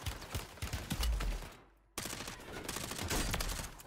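Dense, continuous gunfire fills a Call of Duty Warzone match as a sniper rifle and other weapons crackle in rapid overlapping shots, with a brief near-silent gap midway before the barrage resumes.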